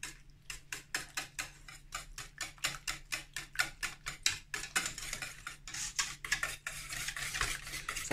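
Quiche ingredients are briskly whisked in a bowl, a quick series of sharp rhythmic clinks and scrapes from a utensil against the bowl, close and steady throughout with no talking.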